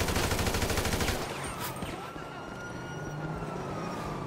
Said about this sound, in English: Alright, fine, I'm shooting your cousin.